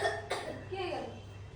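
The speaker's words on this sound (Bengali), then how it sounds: "কাশিটা একটু আছে এবার।" A child gives a single sharp cough up close, with voices talking around it.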